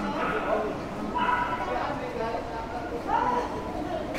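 Puppies, including Pomeranian and Chihuahua types, bark and yip in a pet shop at Tiendesitas Pet Village, several short high barks in quick bursts amid room chatter, with people talking nearby.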